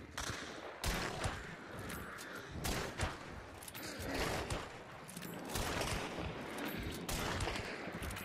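Gunfire in the video game Hunt: Showdown: a string of sharp shots bursting out at irregular intervals over a steady noisy game backdrop, fairly loud, with no one talking over them.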